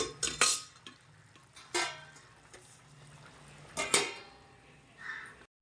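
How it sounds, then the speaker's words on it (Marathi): A lid set onto a cooking pot in a home kitchen while a gram-based vegetable curry cooks, with a few sharp metallic clanks and knocks spread across the clip, close and fairly loud against quiet kitchen background. "तर आता याला पण झाकण मारते मी"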